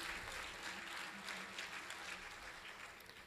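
An audience claps at a Boland College graduation ceremony for electrical N3 graduates, a sustained round of dense, even applause from a large seated crowd.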